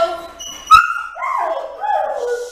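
A Shih Tzu during leash training gives short whimpers and a sharp yip close by, then high whining cries that rise and fall.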